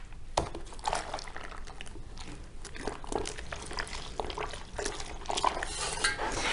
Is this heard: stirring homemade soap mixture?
yes